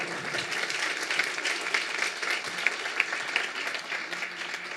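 Steady applause from a University of Chicago lecture audience welcoming a guest speaker, a dense even wash of many hands clapping throughout, fairly close and sustained without letup.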